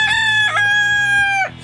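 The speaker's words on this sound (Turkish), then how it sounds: "Tavukları çağırdı yanına. Tavuklar yanına çağırıyor." A rooster crows one long, loud cock-a-doodle-doo close by, its harmonic call rising and then trailing off, as it calls the hens to it.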